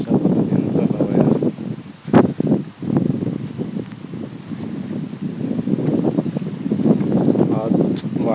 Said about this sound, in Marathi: आज वारा जास्त असल्यामुळं आवाज थोडा कमी येते.